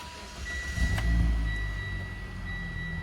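A 2015 Mitsubishi Lancer GT starts up and settles into idle, with a low engine rumble that swells briefly after the start and then steadies to a smooth, quiet hum alongside a faint high electronic tone.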